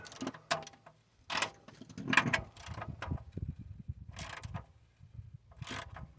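Hand ratchet clicking in short bursts while tightening the transmission pan bolts on a 1996 GMC Sierra 1500, close and fairly quiet, with pauses between strokes and a brief clunk of metal.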